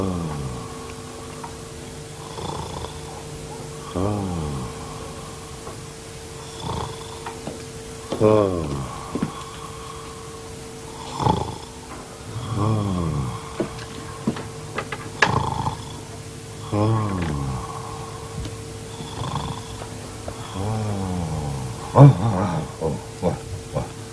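A man snoring in a sitting-room comedy scene, slow repeated rasping breaths in a steady rhythm, close and fairly loud, with a faint tone in the background.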